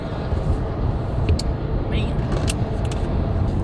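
A car driving on a road, a steady low engine and road rumble heard from inside the vehicle, with a few small clicks and rattles on top.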